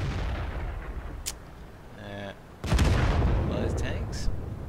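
Tank cannon fire in a World of Tanks tournament battle, a couple of heavy booming shots with a sharp blast near the middle, heard beneath a caster's commentary.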